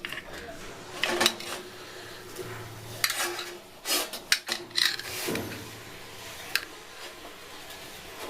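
A knife slices through a soft, spongy orange cake, making brief, quiet scraping rasps that come in scattered bursts with pauses between them.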